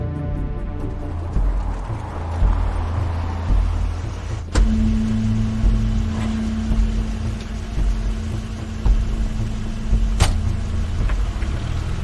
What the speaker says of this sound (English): That's Crane's car.